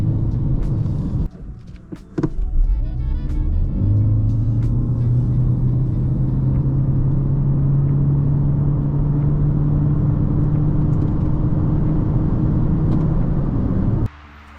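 A 2024 Toyota C-HR 1.8 hybrid, 140 hp, pulls from rest to 100 km/h inside a tunnel, a loud enclosed rumble with a droning engine tone rising slowly and steadily until it cuts off abruptly near the end.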